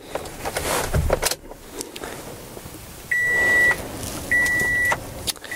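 A 2017 Toyota Tundra TRD Pro pickup being switched on: a brief mechanical clunk and rustle, then two steady electronic chime tones from the dashboard, each lasting about half a second.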